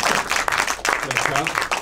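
An audience claps after a talk at a film festival screening, a dense patter of many hands, with voices speaking over it.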